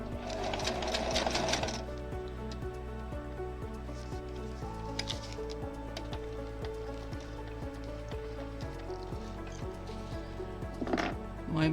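Domestic sewing machine running a steady rapid stitch through fabric while piecing a diamond-in-a-square quilt block, a continuous mechanical whir with even repeating clicks, close and alone with no talking.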